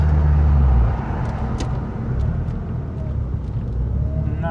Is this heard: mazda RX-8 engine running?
yes